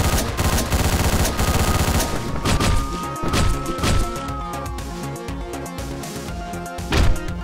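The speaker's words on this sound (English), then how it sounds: "We use the gun from the first floor to kill off this shotgun mobster." Gunfire in the top-down action game Hotline Miami plays as repeated sharp shots and impacts over loud, driving game music, with a heavier burst near the end.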